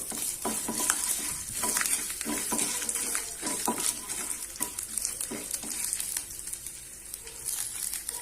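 Garlic cloves and chopped ginger fry in a pan of hot oil for a Chettinad-style spicy chutney, giving a steady bright sizzle throughout with scraping stir strokes and occasional utensil clicks, close and continuous with no voices.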